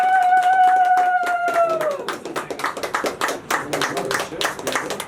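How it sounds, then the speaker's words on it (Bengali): An audience claps to welcome a guest at a ceremony, a brisk run of close handclaps under a fading sustained tone at the start, the clapping continuing unevenly alone to the end. "সবাই করতালি একবার জুড়ে"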